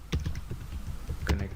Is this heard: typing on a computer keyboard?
yes